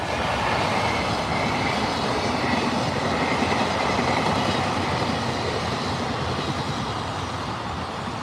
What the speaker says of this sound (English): No, freight train.